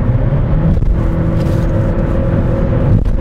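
A Chevrolet Malibu hybrid accelerates with a steady, loud low engine drone and road rumble, heard from inside the car without pause.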